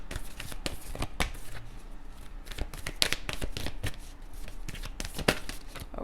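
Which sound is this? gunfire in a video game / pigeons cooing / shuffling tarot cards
shuffling tarot cards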